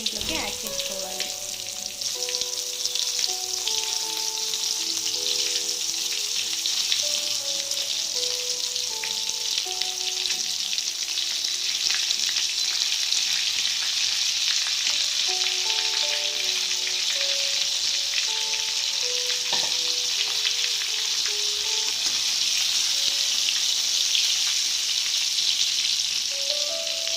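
Eggplants fry in a pan with turmeric, giving a steady, close sizzle that holds evenly throughout, with faint tonal music running underneath.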